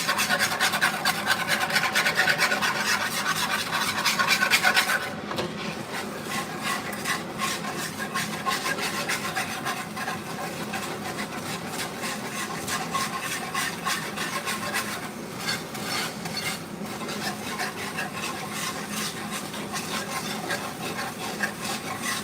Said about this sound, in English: I'm going to use the whole whisk here for a second